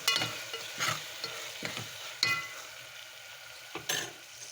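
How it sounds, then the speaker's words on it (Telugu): Ginger garlic coconut paste stirred and frying in a pan for spicy chicken gravy curry, with soft steady sizzling broken by scraping spoon strokes that rise and fall several times, close by, with no talking. "ఇప్పుడు 1 స్పూన్ అల్లం వెల్లుల్లి కొబ్బరి పేస్ట్ వేసుకుందాం. బాగా కలుపుకోవాలి."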